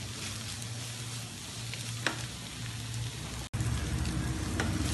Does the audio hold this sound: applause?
no